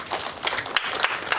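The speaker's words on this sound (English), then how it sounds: "Clap for our parents." A crowd applauds for the parents at the first graduation ceremony of the NFT Mobility Boda Fix academy, Class of 2020. Dense, steady clapping fills the space, with a few sharper claps standing out.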